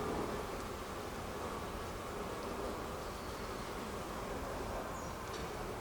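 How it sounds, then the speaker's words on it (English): Honey bees buzzing around an open beehive during an inspection, a steady, faint, dense hum with no talking. "Beautiful bees."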